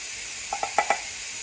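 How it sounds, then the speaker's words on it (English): Four quick, light clinks and scrapes in a short cluster as cherries are stirred in their soaking liquid, set against a steady background hiss. "I'm just gonna take my cherries and kind of give them a stir."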